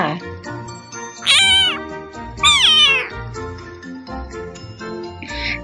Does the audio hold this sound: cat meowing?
yes